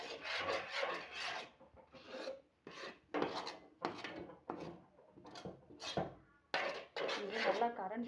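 A spoon stirs and scrapes thick red banana malt mixed with ground almond, cashew and cardamom in a pan, giving repeated close rasping strokes in irregular bursts with short pauses between them.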